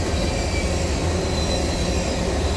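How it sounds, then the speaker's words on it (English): A CSX freight train rolls past close by, all its locomotive power at the front, making a loud, steady rumble of wheels on rail with a high squeal of metal running through it. "Unlike our last two CSX trains, there is no DP in this one, as this train's not heavy or long enough to require one."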